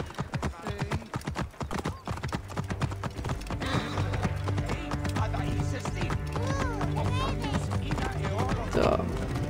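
A horse's hooves clip-clop rapidly through a city in Assassin's Creed Origins, a steady, close galloping rhythm with a whinny, while someone talks over it.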